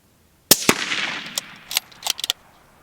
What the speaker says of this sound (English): Gonna do 2 rounds on steel, and then I'm gonna do 1 on the dead tree.